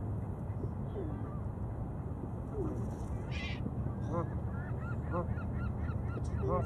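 Geese honk repeatedly in an outdoor setting, a series of nasal calls clustered in the second half over a steady background rumble, fairly close, with no talking.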